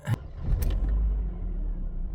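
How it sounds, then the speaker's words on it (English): Mercedes W124 engine cranks briefly, then catches and settles into a low, steady rumbling idle, close and fairly loud with no talking. "Let's start the engine and see what's going on under the hood."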